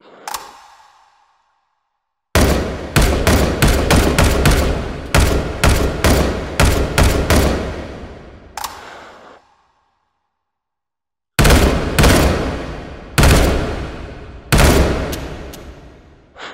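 A FAMAS bullpup rifle in H3VR fires loud, sharp shots in two rapid bursts separated by a few seconds of silence, each crack ringing out with a short echo tail.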